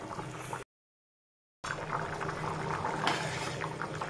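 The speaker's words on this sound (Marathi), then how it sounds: "तर मस्त दणदणीत अशी मोठी उकळी आलेली आहे" A pot of cowpea, potato and eggplant curry at a vigorous rolling boil bubbles and gurgles steadily at close range, quiet and continuous apart from a short gap of silence.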